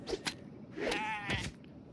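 A goat in Kenshi gives a wavering bleat, a vibrato cry that swells and fades over about a second, framed by a few short thuds, fairly close and with no talk.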